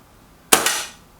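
A single air rifle shot from a Milbro Guardian or Stoeger XM1, a sharp close crack followed by a second quick report and a short fading tail, alone without talk.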